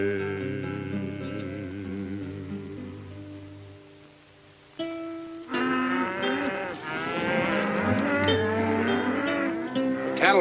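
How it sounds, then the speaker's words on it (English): A restless cattle herd lows in a 1951 Western. Several drawn-out moos are heard, first alone and then rising loud over a busier mix after a brief lull. "Cattle are restless, getting pretty spooky."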